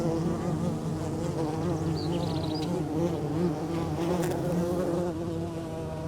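Copolicana bees in the Atacama desert buzz steadily around their tiny colony, a continuous close drone of many insects with no speech.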